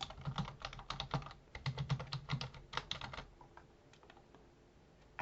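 Someone types a password on a computer keyboard, close up, with quick bursts of clicking keystrokes in an uneven rhythm, thinning out toward the end.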